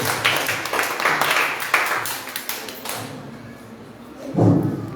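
Applause from a quiz audience rewarding a correct answer at a Bible quiz, a burst of clapping for about three seconds that then fades, followed by a brief low thump.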